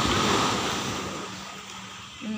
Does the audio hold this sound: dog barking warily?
no